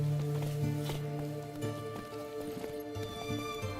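Roach the horse galloping in The Witcher 3, a quick repeated clip-clop of hooves over a steady musical and ambient game background, no talking.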